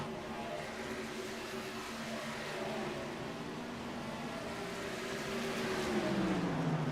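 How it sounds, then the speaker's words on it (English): Steady engine roar from race cars circling a track, a continuous droning whine that swells slightly toward the end, heard from a distance. "You guys hear the track, the race cars going around"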